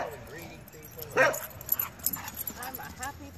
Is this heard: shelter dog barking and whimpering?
yes